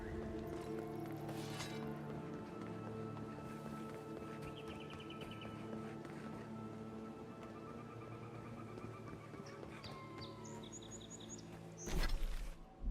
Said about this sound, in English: Bird song in games always prettier than, at least around here for me.